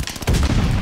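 Gunfire from a player's gun in the Call of Duty: Vanguard video game: a loud burst of shots begins partway through and keeps going to the end, after a quieter opening.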